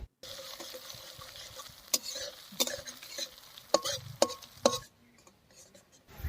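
Bay leaf, cumin, ground chilli and cumin pastes, and green and dried chillies hit hot oil with a bright sizzle, broken by sharp clinks and scrapes of a spoon against the pan before the frying dies down near the end.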